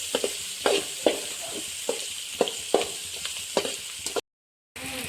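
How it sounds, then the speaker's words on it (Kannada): Onions fry in a pan for a spiced rice-and-lentil dish, a steady close sizzle punctuated by regular scraping stirs of a spoon, broken by a brief silent gap near the end. "ಈರುಳ್ಳಿ ಕೂಡ ಚೆನ್ನಾಗಿ ಫ್ರೈ ಆಗಬೇಕು ಬ್ರೌನ್ ಕಲರ್ ಬರೋದು ಫ್ರೈ ಮಾಡಬೇಕು"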